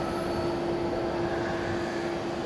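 A Vietnam Airlines jet on a far runway at Fukuoka Airport in Japan gives off a steady distant engine hum and whine, continuous and unbroken.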